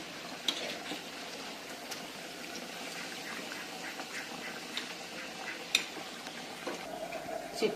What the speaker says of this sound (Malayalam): അപ്പോൾ ബാക്കിയുള്ള ചിക്കനും കൂടി വറുത്തെടുത്തിട്ടുണ്ട്.